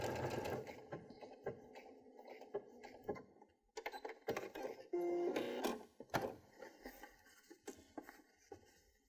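A Baby Lock sewing machine with a garment maker foot stitching a row on fabric, close whirring bursts with stops and clicks between runs.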